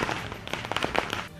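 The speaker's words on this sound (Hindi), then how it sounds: "अहमदाबाद में आतिशबाजी ऐसी हुई कि घंटों तक थमी ही नहीं।" Fireworks in Ahmedabad celebrate a BJP election victory: a dense, continuous run of sharp crackles and pops at moderate distance, with overlapping bursts throughout.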